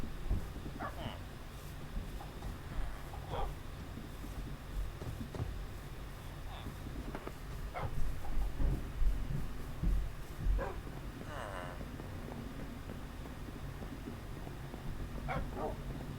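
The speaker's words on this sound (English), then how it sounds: "Why is there a baby dog?" A small dog barks and yips inside a video game, short sharp calls scattered over about sixteen seconds against a busy game background with occasional louder swells.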